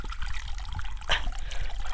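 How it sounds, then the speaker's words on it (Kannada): Small trickle of hill water running down in a forest cooking spot, a steady thin splashing dribble heard close by and alone, with a brief brighter splash midway. "ಇಲ್ಲಿ ಸಣ್ಣದಾಗಿ ನೀರು ಬರ್ತಾಯಿದೆ ನೋಡಿ"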